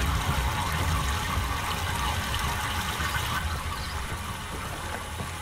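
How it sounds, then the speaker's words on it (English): Water rushes steadily through a hose in the video game Myst, a continuous even wash of flow that fades a little toward the end, with no voices. "Now we have water flowing through the hose."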